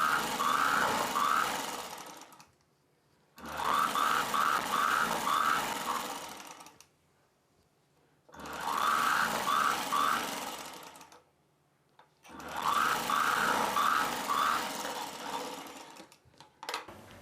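A sewing machine runs in four steady bursts while stitching the back belt of a blouse, each run a few seconds of loud, fast rhythmic needle clatter separated by short pauses.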